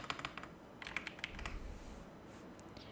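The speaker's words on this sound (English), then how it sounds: "go to effects and type in blur" Quick, light clicks of keys being typed on a computer keyboard, a short burst of taps close up and fairly quiet with no voices.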